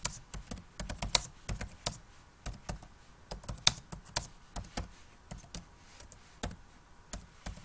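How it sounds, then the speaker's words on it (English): Irregular clacking of computer keys being typed in short bursts with pauses, close and fairly quiet, with no talking. "my typing is a little slow"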